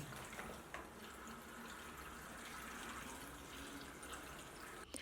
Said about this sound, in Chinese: 再倒入烧开放凉的凉白开。